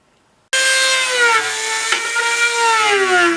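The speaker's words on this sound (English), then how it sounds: "So one of those little sanding drums" A rotary tool with a small sanding drum whines loudly and steadily on a cracked Ninja motorcycle fairing during carbon fiber repair, starting abruptly and running continuously with a slight pitch wobble.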